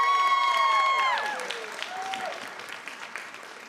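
Children cheering and applauding at a school board meeting, a burst of clapping and cheers that fades over a few seconds, with feedback-like tones ringing at the start.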